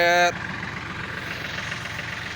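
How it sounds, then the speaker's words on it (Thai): A tractor engine runs steadily at a rice paddy field, a low continuous rumble with a brief tonal burst at the start, then a constant even drone. "รถไถไงครับ"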